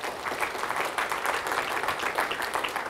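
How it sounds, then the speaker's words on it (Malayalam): A church congregation claps in praise, making dense, continuous applause from many hands that holds at an even level throughout. "ഒന്ന് കൈയടിച്ച് കർത്താവിനെ മഹത്വപ്പെടുത്തുക"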